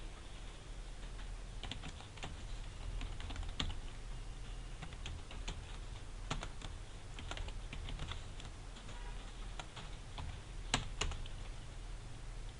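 Steady typing on a computer keyboard while writing JavaScript code, with rapid uneven key clicks and occasional sharper strokes running through the whole stretch, close and moderately quiet over a low background hum.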